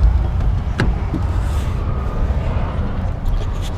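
A car with worn-out tires and no licence plate drives along the road, its engine and tire noise forming a steady, loud rumble throughout with a brief knock near the start.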